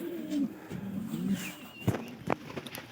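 A Giribaz pigeon coos softly in a few low rolling phrases, with a couple of brief sharp knocks near the end.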